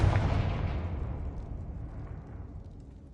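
A Confringo fire spell blast in the Hogwarts Legacy video game: one loud, booming burst at the start that rolls off into a long fading rumble, with no one talking.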